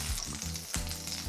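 Steak bites frying in a pan, with a constant, close, dense sizzle and brief bursts of spattering, no voices.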